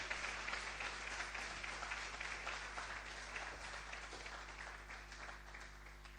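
Faint, distant applause from the audience at the Diaspora Summit 2025 media launch, greeting Foreign Affairs Minister Samuel Okudzeto-Ablakwa: a steady wash of many hands clapping that holds for several seconds beneath a low hum.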